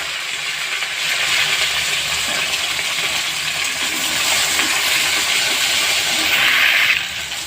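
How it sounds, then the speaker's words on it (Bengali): Chopped taro root pieces tossed into hot oil in a pan, producing a loud, dense, hissing sizzle that holds steady and swells near the end; no voices are present. "এবার আমি কেটে রাখা গাটি কচুগুলো দিয়ে দেবো, দিয়ে একটু ভেজে নেব।"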